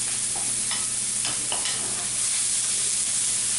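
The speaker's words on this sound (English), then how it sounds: "Now, you want to add your onions and your bell peppers." Onions and bell peppers fry in a pan for chili, with no oil added. A steady, close sizzle and hiss runs throughout, broken by a few brief stirring scrapes, and no one talks.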